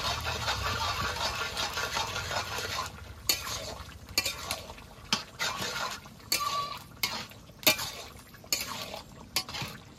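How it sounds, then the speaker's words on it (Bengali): A spoon scrapes and clinks against a pan while bottle gourd and fish curry is stirred, with sharp intermittent knocks and metal scrapes over a soft background hum. "তো ভালো করে তরকারিটা একবার ঘেটে নেব।"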